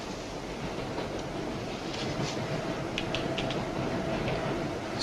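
A train runs steadily on its rails with a continuous broad rumble and roar, faint metallic clicks rising in the second half, with no voices.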